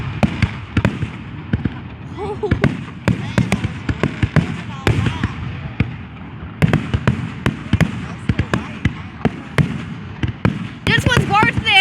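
Dense Fourth of July fireworks finale bursting in rapid overlapping succession, loud sharp bangs and crackles filling the air while spectators exclaim nearby.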